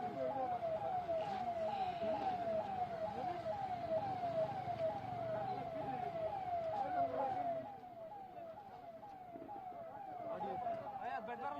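An ambulance carrying a COVID patient near Vidhana Soudha in Bengaluru wails with a fast, repeating siren, loud at first and then dropping in level partway through, with street traffic around it.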